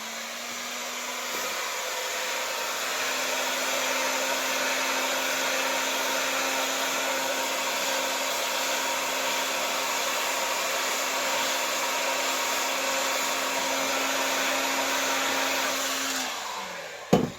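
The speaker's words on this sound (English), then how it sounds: "I'm just going to go back to the heating gun, which happens to be on this side of the studio, and I'm going to heat that up" A heat gun warms a shoe heel coated with dried contact adhesive during a repair, giving a steady, loud blowing whine with a constant hum that runs for about sixteen seconds before it cuts off, with no talk.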